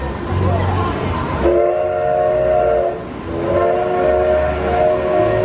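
A land train's horn at Icon Park sounds twice, sustained multi-tone blasts over a steady rumbling engine, fairly close and loud, with background chatter.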